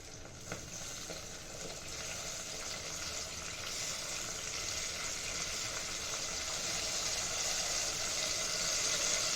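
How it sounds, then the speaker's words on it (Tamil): Continuous close sizzling and hissing of onions sautéing in a pan for a fish curry, growing slightly louder over time, with no talking. "ஆனியன் நல்லா வதங்கிட்டுருக்கு"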